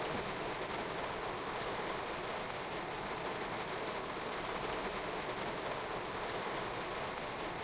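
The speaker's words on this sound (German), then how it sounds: "der Regen ist so laut" Heavy rain drums continuously on a train cab in the Train Sim World 2 game, a dense, even hiss with a low rumble underneath, steady and unbroken throughout with no voices.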